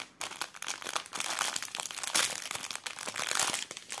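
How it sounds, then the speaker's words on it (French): Plastic sachets of diamond painting beads crinkle and tear open close by, a dense, continuous rustling with sharper crackling bursts throughout. "C'est vrai que j'ouvre plus facilement les sachets de diamants spéciaux."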